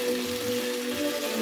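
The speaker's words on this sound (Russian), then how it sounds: "Картошка жарится." Potatoes fry in a pan at a September camp session, giving a soft, steady sizzle and crackle that sounds fairly quiet and close.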